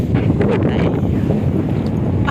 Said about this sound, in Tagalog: Tingnan mo, ano kalakas ang hangin niyan.